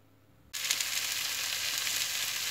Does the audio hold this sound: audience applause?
no